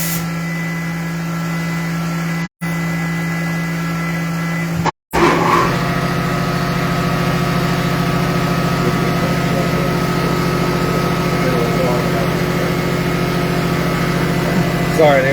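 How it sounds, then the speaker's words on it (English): An air compressor in a machine shop runs steadily, its loud constant hum and mechanical whine continuing unbroken after two short dropouts near the start. "the air compressor kicked on because the machines were running"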